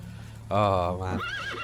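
A horse in the medieval life-sim game Medieval Dynasty lets out a loud, close whinny that rises and wavers over about a second, with clip-clop hoof sounds and soft in-game ambience beneath.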